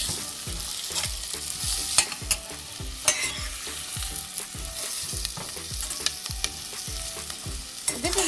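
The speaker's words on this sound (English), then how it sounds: "So let's fry this all over, and maybe we can add some carrots so it gets softer." Chopped garlic and carrots fry in hot oil for a carrot and tomato soup, a steady close sizzle broken by regular scraping strokes of a spoon stirring the pan.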